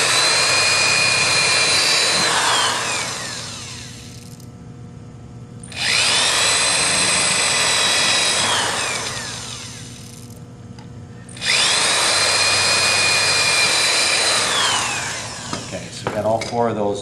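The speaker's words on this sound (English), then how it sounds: "I've got an 1/8 inch bit chucked in my drill." Power drill with a 1/8 inch bit boring through sheet metal for toolbox handle holes: three loud, close whining bursts of several seconds each, the pitch sliding as the bit bites, separated by short quiet gaps.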